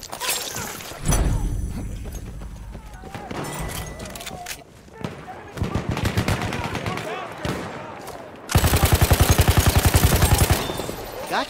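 Gunfire in the World War I shooter game Battlefield 1: scattered rifle shots and thuds build to a loud, dense stretch of rapid automatic fire near the end, with someone talking over parts of it.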